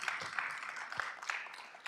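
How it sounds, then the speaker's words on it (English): A brief patter of scattered audience applause at a racial equity summit evening event, fairly faint and uneven, with light claps over a short stretch and no speech. "give yourselves a huge round of applause and the essayists for coming out tonight"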